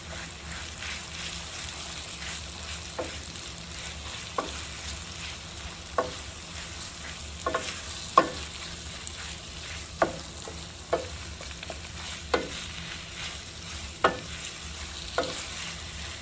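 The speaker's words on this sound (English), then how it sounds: "Now I'm going to go ahead and add my saltfish." Saltfish frying with vegetables in a pan: a constant close sizzle with regular sharp crackles and pops spaced a second or two apart, no talking.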